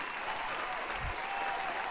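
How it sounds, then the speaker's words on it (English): Studio audience applause on a quiz-show podcast, a steady, even wash of clapping at low volume that runs for the whole short stretch without any talk. "let's kill the applause"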